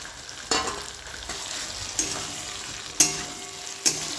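Pieces of fried stingray (shankar fish) stir-fried with spices in a pan: a steady sizzle broken by four sharp spatula scrapes and knocks at irregular intervals, close and clear.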